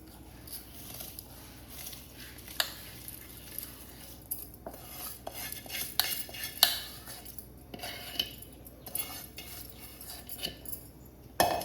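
Rice goes into a pot of lightly foaming boiling water for ghee rice, making a soft pattering rattle mixed with close metallic clinks of utensils against the pot, with no talking.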